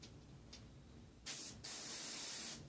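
An airbrush sprays water in short hissing bursts: a brief puff, then a longer steady spray, with faint background noise between.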